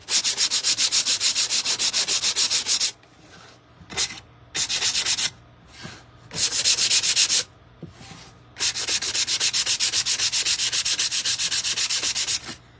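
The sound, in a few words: sanding a wooden Santa plaque with sandpaper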